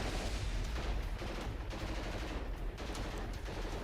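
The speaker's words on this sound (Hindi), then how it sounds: "नॉर्थ सीरिया की सड़कों पर जमकर फायरिंग हो रही है।" Gunfire on the streets of northern Syria, captured in news footage, comes as dense bursts of automatic shots and scattered cracks under a constant rough noise, with no clear speech.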